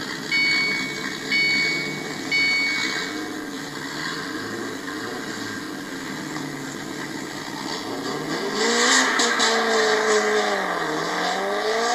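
A Ford Mustang engine runs with a steady, loud drone that swells into a stronger rev toward the end, heard from close by with no talk.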